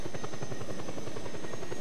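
A helicopter in the Just Cause 2 multiplayer game gives a steady, close rotor chop, a loud rhythmic buzzing pulse that runs unbroken for about two seconds with no voices.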